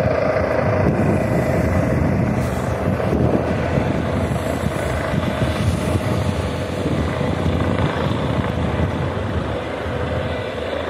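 Helicopter landing in La Bañeza, Spain: a loud, continuous rotor roar and turbine whine close by, steady throughout with some wind buffeting.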